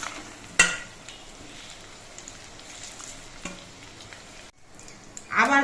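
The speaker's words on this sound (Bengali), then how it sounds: "কোপ্তাগুলো উল্টে পাল্টে নিয়ে সব দিকে ভালো করে ভেজে নিতে হবে।" Papad-coated koftas fry in hot oil with a steady, moderate sizzle, broken by a couple of sharp clinks and a short lull before a louder burst of spattering at the end.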